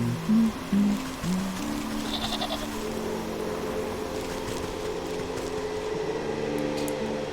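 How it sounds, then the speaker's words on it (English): Goats bleat a few times in the video game Wytchwood, short cries early on over a steady ambient hum of game background sound. "And we shall lure these goats."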